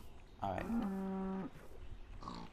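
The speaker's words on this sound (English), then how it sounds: "Yes, come here cows." A loud, drawn-out Minecraft cow moo rises then holds steady for about a second, followed by a fainter second moo trailing off.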